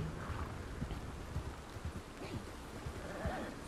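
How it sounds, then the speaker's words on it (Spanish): In the video game Red Dead Redemption 2, heavy rain hisses steadily while irregular low thuds, like hooves or splashes, sound beneath it at moderate volume. "La lluvia extrema"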